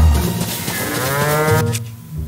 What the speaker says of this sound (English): Can I ride a cow?